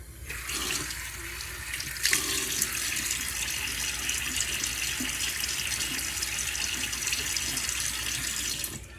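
Steady rush of running tap water filling a sink while a face is wetted before shaving, continuous and close with a few splashy bursts, no voices.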